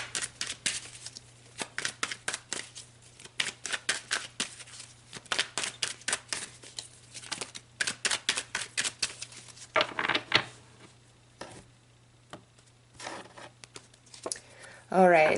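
Tarot cards pulled and shuffled from a deck during a reading, giving many short crisp card snaps and riffles in quick bursts, close and fairly quiet, with a brief voice near the end.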